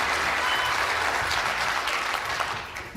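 A large crowd at a New Hampshire presidential town hall claps and cheers in a dense, steady burst of applause that fades slightly toward the end.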